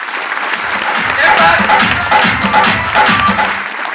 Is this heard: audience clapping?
yes